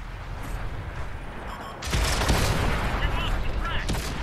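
Artillery fire in the World of Tanks console game: a heavy explosive impact crashes in midway, followed by a dense rumble of battle noise and gunfire, loud and close.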